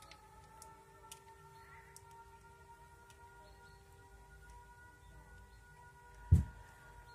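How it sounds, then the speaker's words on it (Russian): A siren drones faintly somewhere outside on the street, heard from indoors as steady sustained tones under a quiet room. Near the end comes one brief, louder thump close by. "Сирена какая-то гудит."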